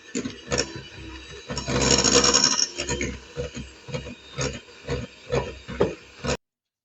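An electric mixer whirs through margarine and powdered sugar with a steady motor hum and rhythmic pulsing scrapes of the beaters in the bowl, close and alone, stopping abruptly near the end.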